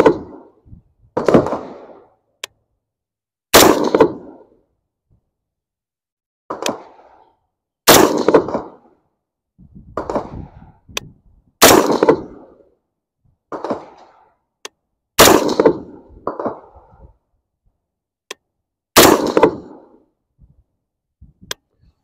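A Colt rifle fires a series of single shots at a target outdoors, sharp loud cracks spaced a second or two apart, each followed by a short echoing tail, with no talking.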